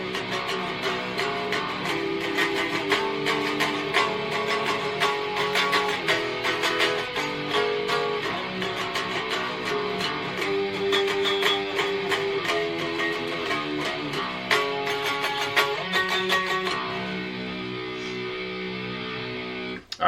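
An electric guitar plays a riff, a steady run of picked chords and notes with a ringing string, alone and at even moderate loudness until it fades near the end.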